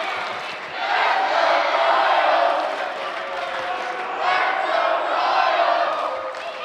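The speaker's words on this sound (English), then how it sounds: "The crowd here solidly behind the hometown favorite, Royal Blood." Wrestling crowd at a live indie show roars and yells steadily in support of the hometown favorite, a loud, sustained wall of cheers that swells twice, with no clear talking on top.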